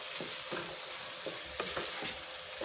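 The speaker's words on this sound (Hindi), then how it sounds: "अब ये नट्स जो हैं ये सारे मैं इसमें डाल दूँगी और हलवे की हम अच्छी तरह से भुनाई करते हैं" Carrot halwa with nuts being roasted in a pan, an even sizzling hiss broken by soft rhythmic scrapes of a spoon, steady and close without speech.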